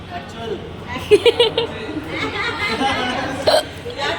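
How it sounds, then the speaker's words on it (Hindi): A few sharp hiccups pop out, a quick cluster of three and then one more, amid chatter and light laughter from people gathered at a child's birthday celebration. "मेरे को हिचकी आ रही है।"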